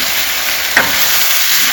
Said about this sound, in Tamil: இந்த 4 மசாலாவும் போட்டு நல்லா கலந்து விட்டுருங்க